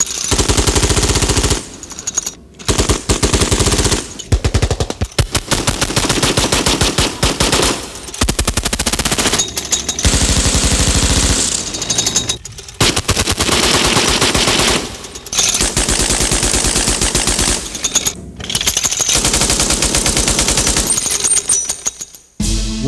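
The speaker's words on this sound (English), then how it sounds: "Six guns firing in an oscillating mood like this would put out a horrendous field of fire" A six-barrel Gatling gun firing full auto: a loud, continuous roaring stream of rounds in long sustained bursts, broken only by a few brief pauses.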